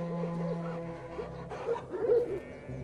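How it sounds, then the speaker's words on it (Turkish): Carpathian shepherd dog puppies barking and yipping in the open, several high-pitched barks overlapping with a steady tone early on, moderately close and continuous through the short stretch. "Yavru köpekleri duyan yetişkinler de koşarak geldi."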